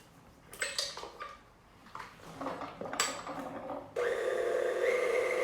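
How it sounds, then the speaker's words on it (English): Graham cracker dough with flour, baking soda, salt and butter is worked with a paddle, giving a few close clattering scrapes and knocks against the bowl, then a steady whirring mixer hum that takes over for the last stretch. "So now I'm just mixing it with a paddle. I'm not using a whisk."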